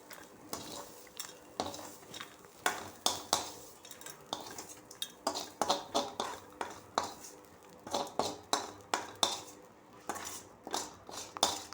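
Sautéed ridge gourd peel for chutney is scooped out of a pan, with a quick, rhythmic series of close metallic scrapes and clinks from a spoon against the pan over a faint sizzle.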